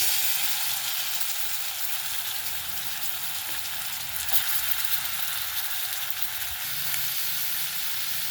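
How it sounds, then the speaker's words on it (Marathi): Chopped onion goes into hot oil for an aloo mutter bhaji, and a bright, continuous hissing sizzle holds steady and close throughout with no voices. "आता आपण कांदा टाकूया"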